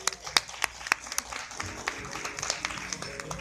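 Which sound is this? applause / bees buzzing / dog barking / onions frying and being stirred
applause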